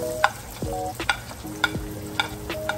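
Garlic and onion sautéing in a pan for menudo, a soft continuous sizzle broken by repeated scraping stirs and utensil clicks, close and moderately quiet with no talking.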